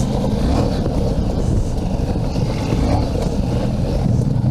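A KTM 1290 Super Adventure R motorcycle rolls downhill on engine braking at an enduro event, a dense, steady low roar mixed with heavy wind rush, loud and close throughout.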